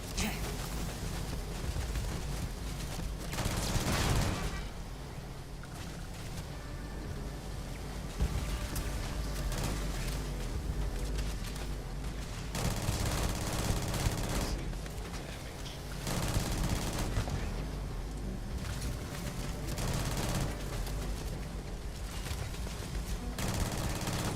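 Automated turrets fire on the player in the space game Starfield: Shattered Space, a dense, continuous stream of rapid gunfire bursts that rarely lets up, loud and close throughout.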